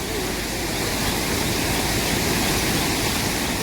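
Floodwater from heavy village rain pours over and submerges a bridge, a steady, loud, broadband roar of rushing water that stays constant throughout with no pauses.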